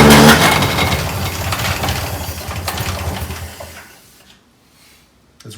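A 1926 Oakland car engine, restarted after 75 years with the choke held shut, runs roughly with an uneven, sputtering chug close by, then falters and fades to near silence.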